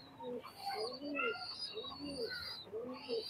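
Pakistani highflyer pigeons cooing close by, a series of soft rising-and-falling coos repeating every half second or so, quiet and clear with faint background chirps.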